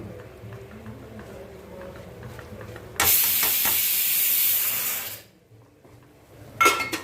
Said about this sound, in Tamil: கொதிக்க ஆரம்பிச்சிருச்சு நம்ம மாவை கொட்டி கிளறிடலாம்